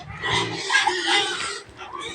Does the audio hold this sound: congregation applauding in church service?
no